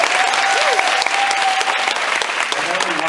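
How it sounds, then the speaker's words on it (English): Audience at a Hanson Mmmhops seminar at Epcot's Food and Wine Festival 2016 breaks into loud, dense applause, steady clapping and cheers up close with some talking underneath. "Give yourself a round of applause."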